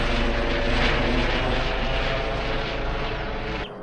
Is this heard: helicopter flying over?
yes